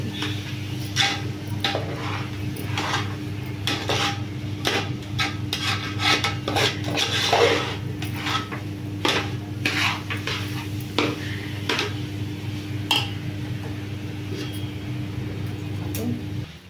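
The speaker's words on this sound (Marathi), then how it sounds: "आपले तीळ आणि गूळ एकदम मिक्स झालेला आहे. गॅस चालू आहे अजून स्लो." A sesame seed and jaggery mixture is stirred in a pan over a low gas flame, with repeated scraping and rubbing strokes of a spoon against metal over a steady low hum, close and continuous.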